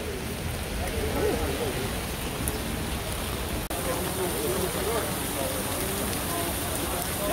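Rain falls at the Atlantic Antic outdoor street fair as a steady broadband hiss and patter throughout, with murmuring crowd voices underneath.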